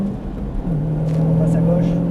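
A Ford Mustang Shelby GT500 powers out of a turn on a track, its close engine drone stepping up in pitch and holding a steady, loud tone as it accelerates.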